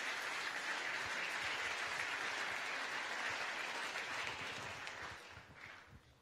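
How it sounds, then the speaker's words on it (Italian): An audience applauds warmly as speaker Paolo Ermani is welcomed to the stage, a full, even roar of clapping that holds steady before gradually fading out. "Facciamogli un bel applauso."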